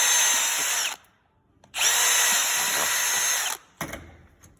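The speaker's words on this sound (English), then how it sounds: "So you can cut it, drill 2 holes like this with a drill bit." A power drill whirs in two long bursts separated by a short pause, then starts a third brief run, drilling two holes while installing a radiator relocation kit on a Honda Pioneer 500; loud, close, no voices.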